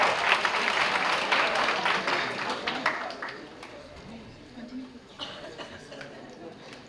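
Audience applause at a Romanian high school ball show, strong at first and then tapering off into scattered clapping and crowd murmur.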